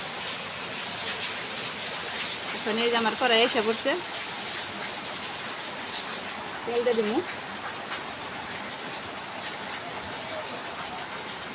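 Heavy rain falls outside a village home, a steady broadband hiss running throughout while someone speaks briefly twice over it.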